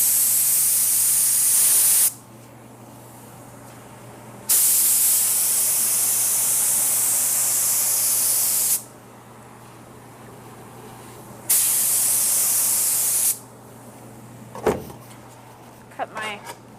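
Loud hissing spray bursts in three long runs, each a couple of seconds, separated by quieter gaps, with a few brief clicks near the end.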